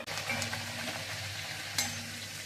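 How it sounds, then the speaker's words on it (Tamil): Pearl millet palak poori fries in hot oil, a fairly quiet steady bubbling sizzle with a couple of brief clinks and scrapes, heard close with no talking. "இப்போ எண்ணெய் காய வச்சு நம்ம நார்மல் பூரி மாதிரியே போட்டுருங்க"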